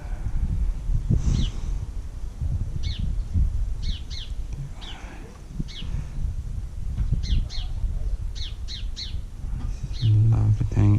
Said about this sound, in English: to the sounds of the birds as well